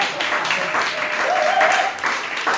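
A church congregation applauds Jesus Christ with sustained, dense clapping that stays loud throughout, with voices mixed in.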